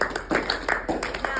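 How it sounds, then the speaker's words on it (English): Hands clapping in rhythm during a posture practice session, about five sharp claps spaced roughly a third of a second apart, close and distinct, with a voice speaking between them. "So we're going to practice just clapping, practice it with good posture."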